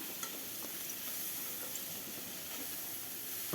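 Onions sauté in a pan with pounded ginger-garlic paste and salt, giving a soft, even sizzling hiss with a few faint stirring clicks, quiet and steady.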